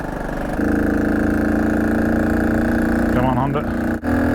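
A 1968 Honda CT90 motorcycle engine runs with a steady, close, buzzing drone that shifts pitch briefly near the end, with talking over it.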